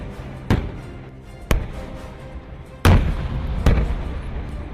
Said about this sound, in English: Artillery fire support is requisitioned.